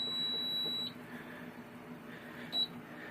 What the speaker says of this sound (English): That's the alarm I was telling you about